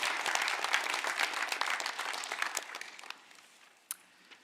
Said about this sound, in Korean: 우리 환영의 박수 드리겠습니다